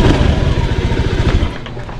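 A Honda Beat FI scooter, which sometimes starts with difficulty, has its electric starter crank the engine in loud, rapid rhythmic thumps for over a second before the sound eases into a lighter, steadier running note.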